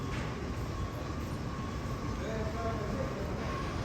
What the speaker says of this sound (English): the subway is working at this time in the morning